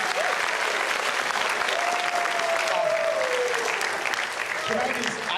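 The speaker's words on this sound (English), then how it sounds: "Get used to clapping." Sustained applause from an audience at a school district jazz festival, dense and even throughout, with a voice briefly audible over the clapping.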